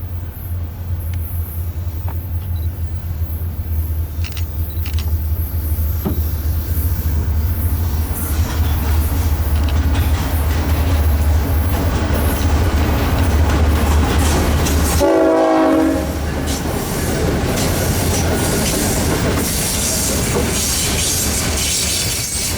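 A long Florida East Coast Railway intermodal freight train led by ES44C4, SD40-2 and GP40-2 locomotives rumbles past close by, a steady loud roar of wheels and cars with a brief horn-like tonal blast near the end.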